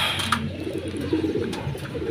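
A racing pigeon arrives at its loft during a training race in San Pablo, Laguna, with soft repeated cooing from nearby birds over a low background hum.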